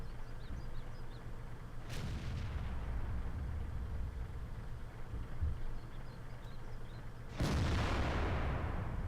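Two heavy cannon shots from an FV215b tank in World of Tanks boom about five seconds apart, each a sharp blast trailing off into a rumble over quiet background hum.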